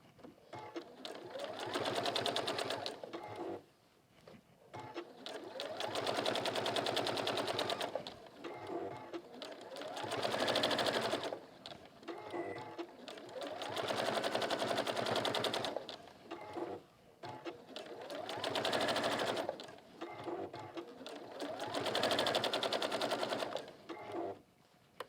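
A sewing machine top stitches a seam in a long, steady run that rises and falls in regular swells, moderately quiet and close, with no clear pauses.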